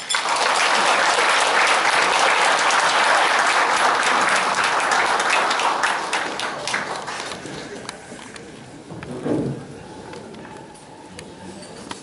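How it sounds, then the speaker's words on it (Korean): Loud, sustained applause from a seminar audience welcoming a professor's lecture at a business forum, fading out after about seven seconds into quiet room noise and a brief voice. "뜨거운 박수로 모시겠습니다"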